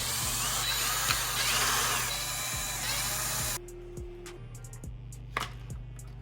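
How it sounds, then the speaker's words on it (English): Six small screws come out of the cover of a Losi ProMoto MX radio-controlled motorcycle, with close whirring and scraping tool noise that is steady at first, then drops to quieter clicks and light taps. "on this side, we're gonna take out these 6 screws"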